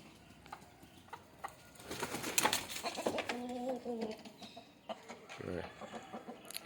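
Country chickens in a coop cluck and call, with a few short bird calls and flutters that rise into a louder burst mid-clip, fairly close with a faint rustly background.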